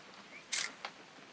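A camera shutter fires once in a video game, a sharp, bright click followed by a softer mechanical snap, alone against quiet background.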